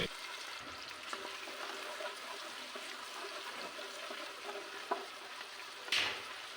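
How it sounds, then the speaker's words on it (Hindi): Sliced onions fry with whole spices in oil for an aloo gosht curry, giving a steady, close sizzle with occasional scraping stirs and a brief sharper clatter near the end. "अब प्याज को मैं खड़े मसालों के साथ थोड़ा सा फ्राई कर लूँगी।"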